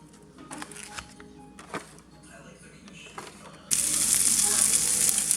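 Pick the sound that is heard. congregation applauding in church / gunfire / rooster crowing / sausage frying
sausage frying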